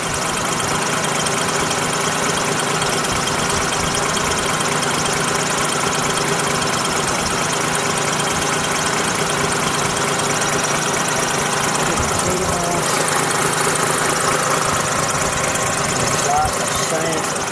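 A 1934 Hudson Terraplane convertible engine idles under the open hood, a smooth continuous rumble with steady knocking rhythm, close and loud throughout, with people talking faintly over it.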